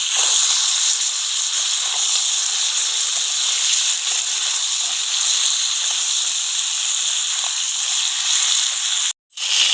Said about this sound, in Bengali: আমি আলুটাও একসাথেই ভেজে নেবো যেহেতু আলু কম এটা আলাদা করে ভাজলাম না